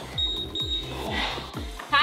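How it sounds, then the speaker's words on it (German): A workout interval timer goes off during a home HIIT session, giving a run of evenly spaced electronic pulses with a thin, steady tone held over them at moderate volume. "Timer."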